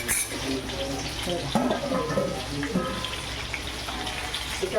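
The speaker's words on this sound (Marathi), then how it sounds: "ताटावर पाणी ठेवते मी परत" Water pours and splashes onto a plate covering a pot of mutton curry on a gas stove, a steady wet trickle with a voice talking faintly underneath.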